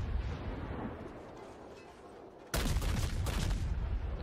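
A naval artillery salvo of HE shells in World of Warships booms in halfway through, a sudden loud roaring blast over a low rumbling sea and engine bed, with no talking.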